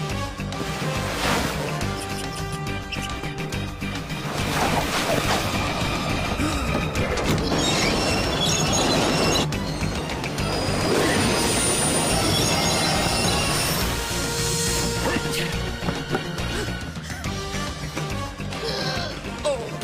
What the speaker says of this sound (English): It's the 940 passenger express coming from Langford.